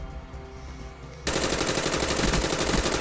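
Rapid automatic gunfire in the Call of Duty: Black Ops video game bursts in suddenly after a quieter stretch of game ambience, a loud, dense, sustained rattle of shots up close.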